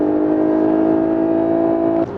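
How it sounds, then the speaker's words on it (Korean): Synthetic engine sound from a Lexus LS 500h hybrid driven in Sport Plus mode, a steady loud humming drone with strong tonal harmonics that holds and then cuts off near the end. "가상의 엔진 사운드를 만들어서 들려주는 건데요"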